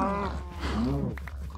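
A Minecraft cow lets out a short, low, drawn-out moo in a brief burst, close and moderately loud.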